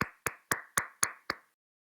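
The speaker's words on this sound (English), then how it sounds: "Round of applause for him." Six evenly spaced sharp claps ring out close by in a slow, regular rhythm, then stop, greeting a guest on a late-night talk show.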